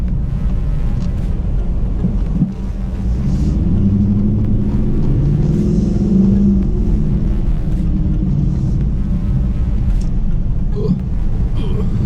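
Dodge Challenger cruising at low speed on a road in Mexico, a close, low engine rumble and road noise droning steadily throughout.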